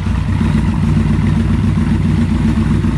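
A Yamaha Vmax 1200 motorcycle, freshly restarted after a long layup and warm, idles with a steady low, even rumble, loud and close with no talking.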